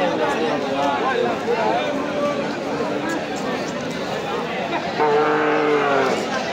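At a busy rural cattle market in Nandail, Mymensingh, cattle give several loud, close moos, the longest near the end, over a steady murmur of crowd chatter and nearby voices.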